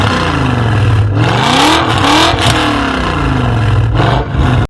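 A 2003 BMW M5 E39 with its 4.9-liter S62 V8 revs hard and loud up close, the pitch sweeping up and down through several aggressive blips without any talking, then cutting off abruptly at the end.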